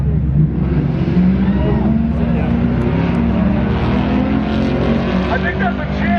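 A Dodge Challenger roars down a drag strip, its engine a loud, steady, continuous drone throughout, with a voice talking over the top.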